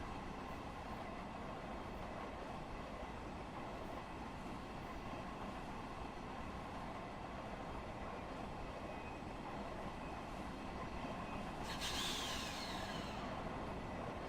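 LIRR M3 electric train running in toward Penn Station, heard from inside as a steady low rumble of wheels and motors, faint and constant, with a brief hiss near the end.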